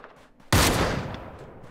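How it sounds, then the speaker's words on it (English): Gunfire in the Ring of Elysium shooter game, a sudden loud burst of shots that begins midway and trails off into a noisy echoing decay, with nothing before it but faint background. "Because I'm hearing shots all sides."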